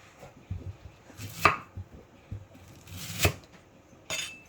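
A knife chops through fresh bamboo shoots in three sharp, separated strikes with quieter knocking between, the cuts trimming away the tough old parts; close and alone with no voices.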